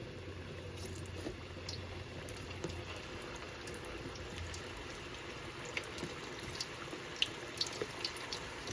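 Plantains frying in hot oil, a steady close hiss and sizzle with occasional small pops and crackles running through the whole stretch.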